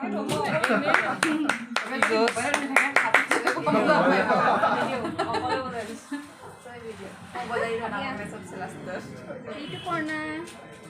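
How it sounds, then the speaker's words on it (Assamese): A small group claps hands during a home celebration, rapid sharp claps for several seconds under lively talk and some laughter. "হাত চাপৰি বজাই দেচোন"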